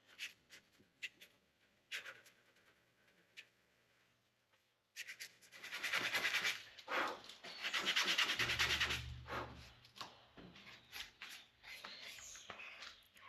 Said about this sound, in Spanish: Hacemos un poquito de lija.